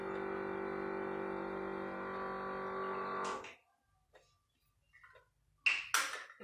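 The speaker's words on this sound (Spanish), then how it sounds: "El bebedero que suena así." A water dispenser in a home kitchen hums steadily for about three seconds, then cuts off, followed by a few scattered faint ticks and two sharper clicks near the end, with no talking.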